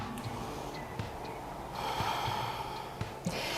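Deep, steady breathing in a yoga low lunge moving into a power lunge, close and audible as soft airy inhales and exhales with a few sharper nasal snort-like bursts, no talking.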